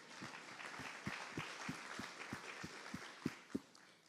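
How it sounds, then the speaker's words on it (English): A worship congregation applauds at a 150th anniversary celebration, with a fairly quiet bed of clapping under a few louder, evenly spaced nearby claps keeping a steady rhythm. "Can we give a round of applause for that?"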